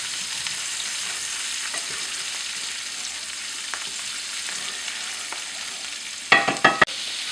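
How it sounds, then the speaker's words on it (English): Mushrooms sauteing with herbs in a pan give a steady, close sizzle and hiss that runs throughout, with a few sharper clatters of stirring or utensil contact near the end. "Mushroom sauteing with your herbs."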